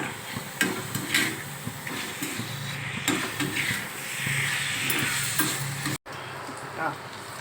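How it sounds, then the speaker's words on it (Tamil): Dried anchovy thokku is stirred in a pan, a spoon scraping and clinking in an irregular rhythm over a soft, continuous sizzle, close by, with brief faint talk. "நல்லா கலக்குங்க. நல்லா பரட்டி விடுங்க"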